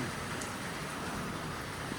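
Steady rain hisses evenly throughout, a dense broadband patter with no voices, close and fairly loud.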